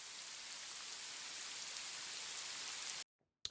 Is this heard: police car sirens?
no